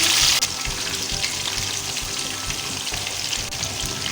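Chicken pieces fry in a pan, giving a dense, continuous sizzle and crackle that stays close and fairly loud throughout, with no voices.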